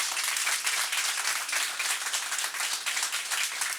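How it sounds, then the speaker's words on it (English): A round of applause from a summit audience, dense steady clapping from many hands filling the room without a break, fairly even in loudness throughout. "Please share a round of applause."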